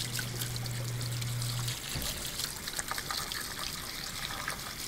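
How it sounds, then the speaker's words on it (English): Warm water runs steadily from a tap while a part from a Heathkit HX-1681 radio is rinsed, a continuous close trickle and splash over a low hum that stops early. "I'm using warm water to rinse."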